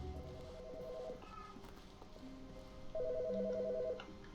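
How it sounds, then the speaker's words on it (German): A telephone ringing in the video game The Stanley Parable, two distinct electronic ring bursts separated by a pause, moderately loud against a quiet room background. "Warum klingelt da jetzt ein Telefon?"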